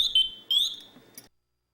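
An MSA FireHawk M7 SCBA PASS device sounds its pre-alarm, a shrill electronic tone in two bursts, warbling and chirping, then cutting off into silence after about a second.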